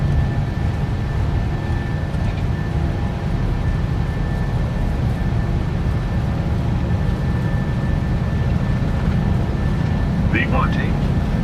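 Boeing 737-800 jet engines at takeoff thrust in the PMDG flight simulator, a steady, loud, unbroken roar with a faint whine running throughout and a brief chirp near the end.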